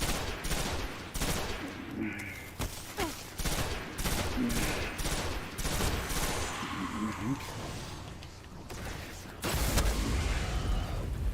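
Gunfire in the video game Destiny: dense, continuous bursts of rapid shots and impacts layered with game effects, loud and busy throughout, with faint voice underneath.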